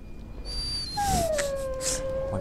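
A dog whimpers in the video game Dragon Age: Origins, a thin high-pitched whine that slides downward and trails off, close and fairly faint, with a little quiet background.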